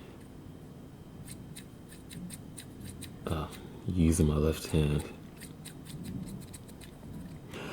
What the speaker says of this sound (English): These scissors don't work very well when I'm